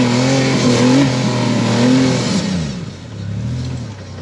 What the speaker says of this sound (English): That's all she's got in that little six cylinder